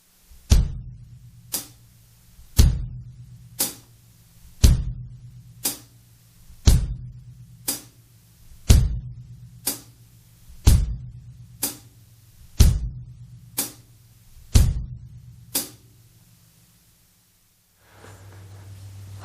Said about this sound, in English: we're going to add our good friend the bass drum to the hi-hat part